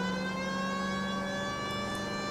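A steady wailing siren holds a sustained tone at moderate volume in the video game L.A. Noire, with no voices.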